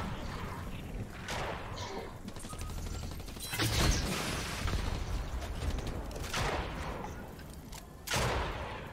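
Gunfire in a shooting video game, several loud bursts of shots with mechanical clatter, the strongest near the middle and again near the end, over a busy, noisy game background.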